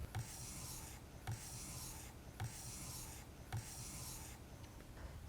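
A blade bevel is honed on a sharpening stone held in a honing guide, giving steady back-and-forth rubbing strokes, about five evenly spaced passes, each with a soft scrape, close and fairly quiet with no talk.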